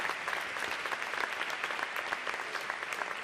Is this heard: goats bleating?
no